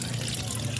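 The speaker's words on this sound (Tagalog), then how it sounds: "nakikita nyo lalabas dito yung tubig" Water trickles and splashes out of a Hyundai Accent engine block during an oil cooler replacement, a continuous low gurgling flow heard close up with no pauses.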